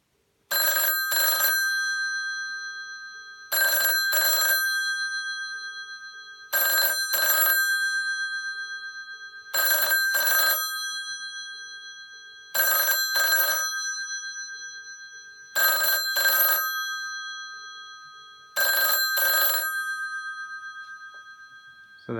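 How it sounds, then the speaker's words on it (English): A yellow 1978 Western Electric 500 rotary telephone rings loud and close in seven evenly spaced double bursts, each a brassy bell trill separated by about two seconds of silence. "So here's what the ringer sounds like."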